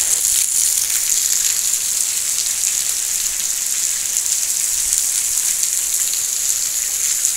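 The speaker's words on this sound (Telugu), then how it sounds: "ఇంకా వస్తూనే ఉంది వర్షం వచ్చేసి." Heavy rain pouring down steadily in a village, a dense, unbroken hiss of countless drops that holds even and loud throughout with no voices.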